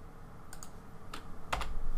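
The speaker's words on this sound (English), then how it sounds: "by tapping the M key" Computer keyboard keys tapped a few at a time while working in SketchUp, crisp close clicks in small clusters with a quiet room hum and no talking.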